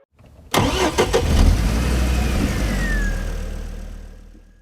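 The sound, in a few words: Formula 1 cars racing at Australian Grand Prix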